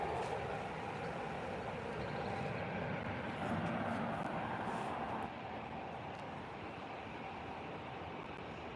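An EasyJet jet taxis at Manchester Airport, a broad, steady engine roar and rumble heard from a distance outdoors, holding fairly even before easing slightly.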